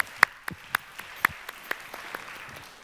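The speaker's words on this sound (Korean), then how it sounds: "하나님께 영광의 박수 올려드리겠습니다." Church congregation at a young adults' worship service claps in praise, a sparse, uneven scattering of separate claps that gradually fades, fairly quiet and with no talking.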